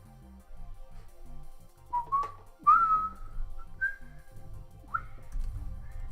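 A person whistles a short, wandering tune of rising and sliding notes, fairly close, over a low rumbling game-like background, with pauses between phrases and no talk.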